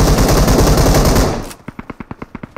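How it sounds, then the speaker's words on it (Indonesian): Automatic gunfire in the mobile game PUBG Mobile: a dense, loud burst of rapid shots fades out, then a slower series of distinct single shots follows in steady rhythm. "Ada yang nembak gua, oh dari belakang lagi loh."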